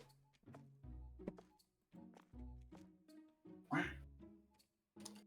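Ducks quacking in the video game Supermarket Together, a series of loud, close quacks in irregular bursts separated by short pauses.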